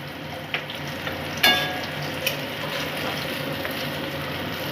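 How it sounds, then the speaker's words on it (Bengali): Eggplant pieces fry in hot oil with a dense, continuous sizzle. A few light clicks and one sharper clink of a utensil sound close by, and no one speaks. "বেগুনগুলো ভেজে নিচ্ছি আমি এখন।"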